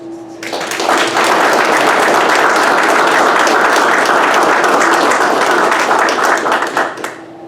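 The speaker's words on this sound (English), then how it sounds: "let's give them a round of applause" A large crowd at a class graduation ceremony breaks into a loud, sustained round of applause that swells quickly, holds steady for several seconds, then tapers off.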